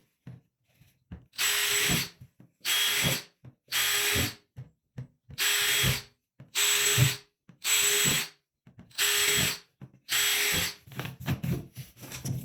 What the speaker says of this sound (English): Then you start the process of just drilling down the sides.